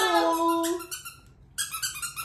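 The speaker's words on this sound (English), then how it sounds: "A squeaker." A dog chomps on a squeaker toy, making a few high, drawn-out squeaks close by with a short gap between them.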